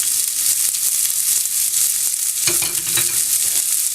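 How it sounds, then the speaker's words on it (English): Steady broadband sizzling of asparagus frying in a hot cast iron pan, with a brief burst of louder crackle and clatter midway, no talking. "I just add in the asparagus."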